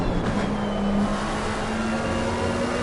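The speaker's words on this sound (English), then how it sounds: "You could hear him modulating that throttle there as he was coming out into Toza." A race car engine in the Assetto Corsa Competizione video game at Imola, its tone steady and close as the throttle is modulated on corner exit, a sustained buzzing note that dips and rises slightly without any voices.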